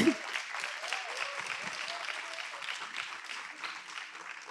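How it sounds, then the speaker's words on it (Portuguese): Applause from an audience at a public talk event, a steady wash of many hands clapping, moderately loud and continuous, with a few faint voices underneath. "Mais palmas."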